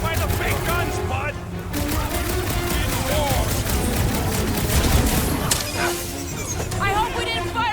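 Heavy gunfire from big guns during a firefight in the Guardians of the Galaxy video game, a dense, continuous barrage with voices talking over it.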